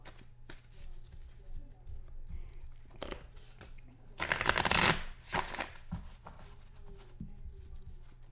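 A deck of cards being shuffled and cut between plays of a tabletop football game replaying the 1990 AFC Wildcard game, Houston Oilers at Cincinnati Bengals, with a louder riffle burst midway among soft handling clicks.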